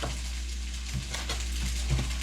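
Andouille sausages fry in a skillet with a steady, close sizzle and occasional soft knocks from stirring, with no voices.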